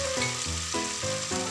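Ingredients sauté in hot cooking oil in a pot, a loud dense sizzle running throughout with a layered tonal hum beneath it.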